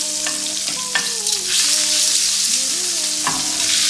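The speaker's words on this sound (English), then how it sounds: "Let our margarine melt." Margarine melts with a little olive oil in a frying pan for vegetables, giving a close, steady sizzle and hiss with a few light utensil clinks.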